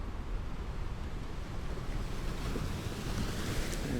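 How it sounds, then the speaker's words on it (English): Waterfall pouring into the ocean in an Unreal Engine 5 Nordic game world, a continuous broad rushing roar of water and surf, steady and fairly loud, with no speech. "the waterfall sort of flows into the ocean"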